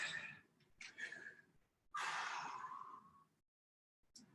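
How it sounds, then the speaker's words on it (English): Slow, deep breaths after an aerobic exercise circuit, a few audible inhales and one long heavy exhale, close and fairly quiet with brief pauses between. "Couple deep breaths here."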